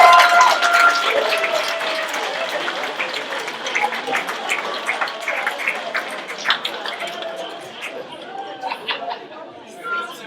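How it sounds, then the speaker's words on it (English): Comedy club audience at a stand-up night clapping after a comedian's set, applause loud at first and gradually thinning out, with chatter and voices carrying through as it fades. "Give a round of applause, ladies and gentlemen."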